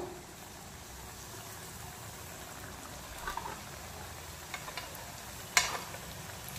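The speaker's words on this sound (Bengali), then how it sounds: "আর বাদবাকিগুলো এভাবেই ভেজে নেব।" Veg mini Mughlai parathas fry in oil in a pan with a quiet, steady sizzle. Soft scattered clicks come through, then one sharper tap near the end.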